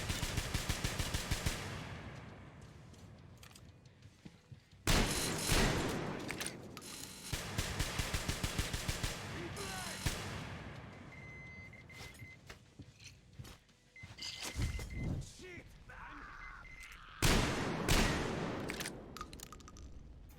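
A Gatling gun in a video game fires in several long, dense bursts separated by pauses, each a loud rattling roar of rapid shots, with quieter clanks and mechanical whirs between volleys.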